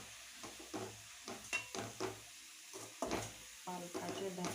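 Finely chopped spinach is stir-fried in a kadhai over a soft sizzle, with a rhythmic series of spatula scrapes and stirs coming through quietly and close up.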